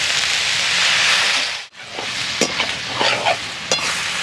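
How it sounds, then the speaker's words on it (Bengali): Vegetables stirred and fried together in a kadai for a navratan korma, a loud close hiss of frying that briefly cuts out, then returns with scraping spatula strokes and bursts of sizzle, no talking. "এবার সব সবজিগুলো খুব ভালোভাবে নেড়ে নেব"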